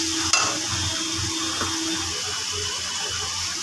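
Ginger and onion paste frying in a pan for a cauliflower and koi fish curry, a steady sizzle with a sharp utensil knock near the start and light stirring scrapes, no talking.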